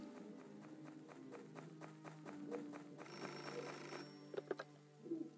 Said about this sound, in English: Uh-oh, my phone's ringing.